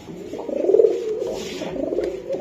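A pair of pigeons, a feather-footed male and a female, coo close by in a loud, rolling burst, followed by a softer, sustained throaty murmur.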